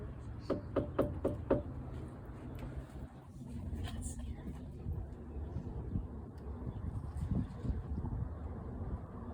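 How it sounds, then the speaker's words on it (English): Knocking on a door at an old tavern house in Walton, Kentucky, a quick run of five sharp close raps followed by a few softer knocks, then quiet room tone with faint rustling and people talking quietly. "I'm just gonna knock."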